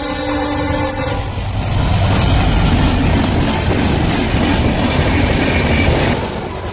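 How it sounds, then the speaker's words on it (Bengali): A train rumbles past a closed railway level crossing on a road toward a river canyon, loud and close, with a steady roar and clatter of wheels and a horn blast near the start. "এবার কিছুক্ষণ দাঁড়াতে হবে ট্রেনটা যতক্ষণ না যাচ্ছে"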